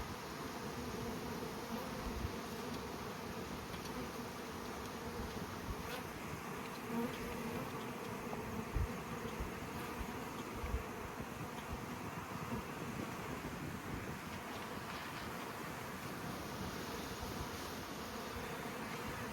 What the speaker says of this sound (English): we have bees coming and going already, and they're already going to start looking for nectar